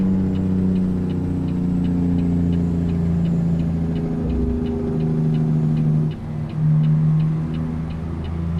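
Simulated heavy truck engine in American Truck Simulator, droning loud and steady with low harmonics that dip and rise as gears change, accompanied by a faint regular ticking.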